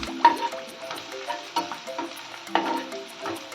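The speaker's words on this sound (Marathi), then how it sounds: "आता हे सर्व काही छान परतूया" Onion and crushed garlic sauté in a pan, a soft sizzle broken by repeated scraping strokes of a spoon, close and fairly quiet.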